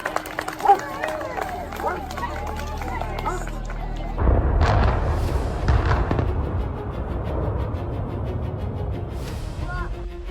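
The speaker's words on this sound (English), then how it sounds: "The iconic cooling towers collapsed in an instant following a spectacular controlled explosion." Cooling towers brought down by a controlled demolition blast send out a heavy, booming rumble that rolls on after a sharp onset, with a crowd's voices and speech heard over it.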